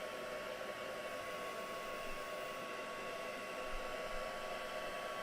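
A hair dryer blows steadily on mixed media artwork, a loud, constant whooshing roar with a faint whine that holds unbroken throughout.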